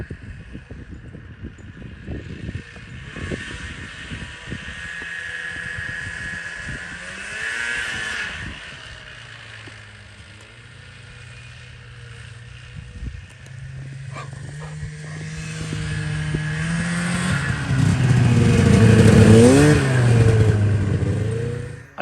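An older snowmobile engine runs steadily, fading a little before it revs and climbs louder toward the end as the sled pulls away on a ride, with a low rumbling drone throughout.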